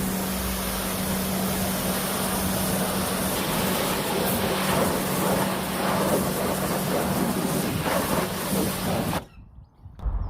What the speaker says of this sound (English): So I'm going to pressure wash that off now, do inside the arches and all that around the wheels.